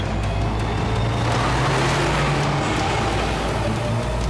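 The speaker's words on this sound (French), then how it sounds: "Vite, il faut qu'on arrive à les semer. Accélère, Alex." A car accelerates during a chase in an animated cartoon, producing a steady loud engine roar and road rumble that stays constant throughout, with no speech heard.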